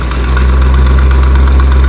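A carbureted engine in the Tater Truck idles steadily at around 750 RPM while the carb is being tuned, giving a loud, close, continuous low rumble with a slightly uneven pulse and no talking.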